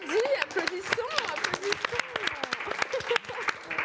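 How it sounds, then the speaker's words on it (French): Scattered clapping from a small audience mixed with lively, overlapping voices and laughter, the claps sounding as sharp separate hits rather than a full ovation. "applaudissons"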